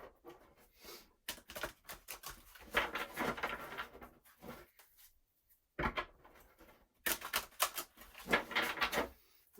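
Tarot cards shuffled and handled close by, bursts of papery riffling and soft slapping with brief pauses between, no voice over it.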